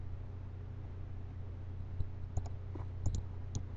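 A few sparse computer mouse clicks, faint and isolated, while placing static meshes in a level editor, over a steady low hum of background noise.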